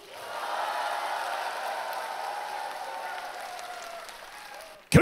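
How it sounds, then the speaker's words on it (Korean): Studio audience applause on a Korean TV singing and dance variety show, a broad steady wash of clapping lasting several seconds and gradually thinning, with a sharp louder burst at the very end. "또 박수."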